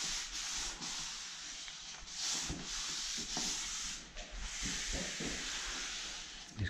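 Lining paper pressed and rubbed into place around a chimney breast and a double plug socket, giving a steady close brushing, scraping hiss with short rubbing strokes throughout.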